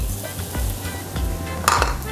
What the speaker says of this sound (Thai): ที่เตรียมเมื่อกี้ก็เอาลงไปคั่วในกระทะพร้อมกันเลยนะครับ